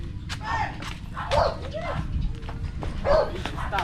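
Several dogs bark and yip repeatedly, a mix of sharp barks at moderate distance over background noise and talk.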